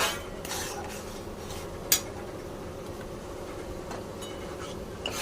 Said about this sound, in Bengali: ভালো করে আবার নাড়িয়ে নিলাম